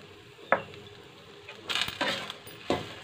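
Spices and potatoes are stirred and fried in a pan for aloo paratha filling, giving a few close clinks and scrapes of the spoon against the pan over a faint sizzle, with no talking.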